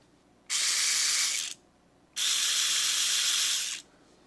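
VESSEL 400ER electric ratchet spinning a long extension and large socket: two loud, steady buzzing whirs of about one and three-quarter seconds each, separated by a short pause, close to the microphone with no talk.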